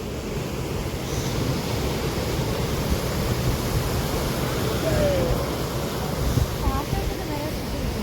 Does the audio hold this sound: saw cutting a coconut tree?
no